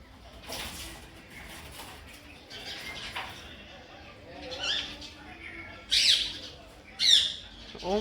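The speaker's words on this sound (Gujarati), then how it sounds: "ઉપર તો જો કેટલા બધા પોપટ આવી ગયા" Many parrots squawking overhead outdoors, sharp harsh calls rising in a couple of loud bursts near the end, mixed with softer chirps and a person talking nearby.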